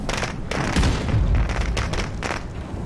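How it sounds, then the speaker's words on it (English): A frag grenade explodes in a shooter video game, a heavy boom with thumping low rumble among several sharp cracks of gunfire, close and loud over a short burst. "let's go ahead and get a frag in there."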